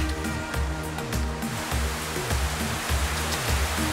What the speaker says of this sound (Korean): 이곳은 수많은 폭포로 연결되는 16개 호수로 유명합니다.